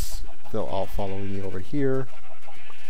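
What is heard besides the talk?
sheep bleating in the video game Minecraft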